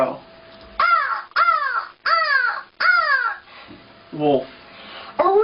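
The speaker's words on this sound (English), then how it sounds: "Crow." A crow caws loudly and close, four harsh calls in a steady rhythm, then pauses and gives a lower, rougher call and one more caw at the end.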